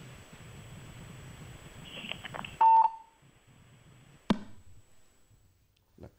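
Phone-in call on a radio farm program: muffled background murmur, then a loud steady beep, a sharp click, and a quiet line with faint tones as the connection fails.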